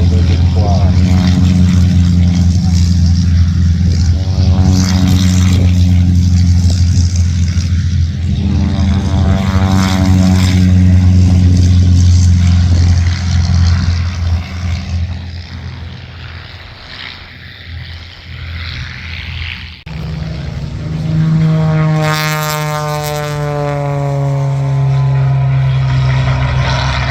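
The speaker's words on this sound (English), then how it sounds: "Taxiing for takeoff." Propeller aircraft taxi for takeoff at the Tocumwal air show, a loud, steady droning engine with shifting tones that fades and then swells again as the plane passes close by.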